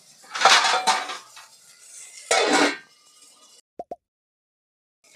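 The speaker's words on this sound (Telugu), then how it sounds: "మూత పెట్టుకోవాలి." A lid goes onto a metal pot of bagara rice in a home kitchen. Stirring and scraping come first, then two quick, sharp metallic clinks close by, followed by silence.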